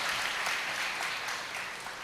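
Audience at a Guru Purnima gathering clapping for the stage crew, a continuous, even patter of many hands, moderately loud with no speech over it.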